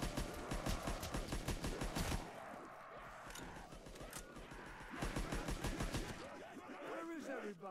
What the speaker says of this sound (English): that's a shooting.